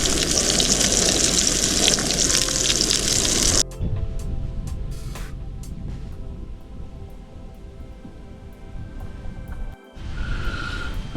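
Beef steak frying in a pan at an overnight carp fishing camp, a loud steady sizzle and hiss up close that drops away partway through, leaving quieter background crackle, with no talking.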